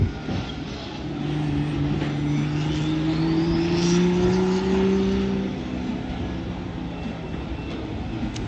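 Drift cars at a drift practice event, an engine revving up in a rising, sustained whine that swells over several seconds and then eases back into a steady rumble, heard from a moderate distance.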